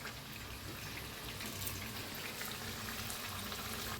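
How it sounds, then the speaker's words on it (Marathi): Masala vada fritters fry in hot oil, a faint, steady bubbling sizzle that runs evenly throughout without any talk. "इकडे तळायचं चालू आहे, इकडे बनवायचं बी चालू आहे आपलं."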